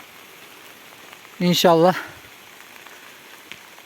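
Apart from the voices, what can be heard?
heavy rain falling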